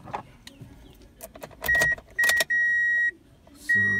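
Car keys jangle and click in the ignition of a car with a no-crank, no-start fault, followed by several steady electronic warning chimes from the dashboard, close and clear in a quiet cabin.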